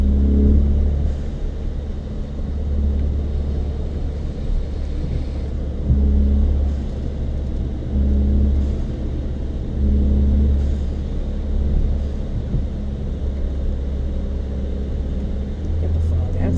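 Ford Fiesta ST running an E30 ethanol blend, heard from inside while driving: a loud, deep engine drone with rises and falls as it revs, steady throughout and close.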